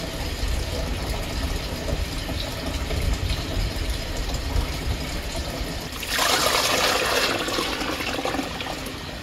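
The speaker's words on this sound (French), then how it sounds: "j'enlève un seau, je rajoute un seau d'eau froide" Bucket of cold water poured into a sterilizer holding jars of home-canned tuna, a steady low rumbling hiss that swells into a brighter rushing splash near the end, no talk.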